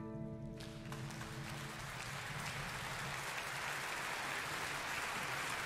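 Steady applause in the video game Zelda: The Wind Waker, a dense wash of clapping that swells slightly over several seconds, preceded briefly by a short tonal chime.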